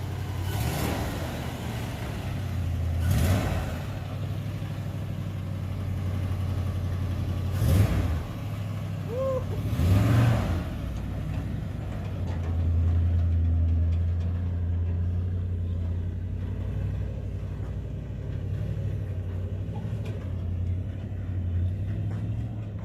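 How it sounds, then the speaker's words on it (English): A 1974 Ford F250 High Boy truck with Sniper EFI on a test drive, its engine droning steadily with low rumble and a few louder surges, heard from inside the cab over road noise. "I think I'm gonna have to show Sammy how to drive that damn truck"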